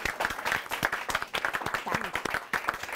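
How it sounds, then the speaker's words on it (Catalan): Applause from a group, steady dense clapping for about three seconds that fills the whole clip, with no speech over it. "Aplaudiu, aplaudiu."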